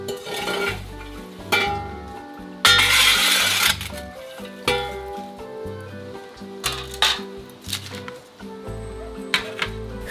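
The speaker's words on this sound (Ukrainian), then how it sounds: "Хліб накриваємо залізною мискою і відправляємо у піч." A metal bowl is placed over bread in the oven, producing metallic clanks and scrapes, one louder burst of rattling, and scattered clinks over a low, steady tonal background, without talk.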